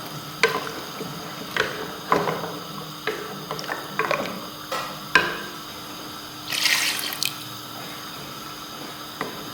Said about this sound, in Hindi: ये तकरीबन हमारे पास है 2 गिलास यखनी है, ये हम इसके अंदर डाल देंगे।